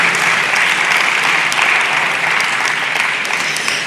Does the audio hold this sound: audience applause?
yes